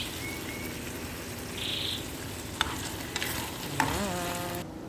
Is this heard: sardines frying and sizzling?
yes